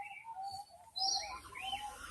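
Common bronzewing pigeons calling at an Australian marsupial park in Tamworth, with soft, low notes amid other bird chirps and tweets, fairly faint and slightly distant with no talking.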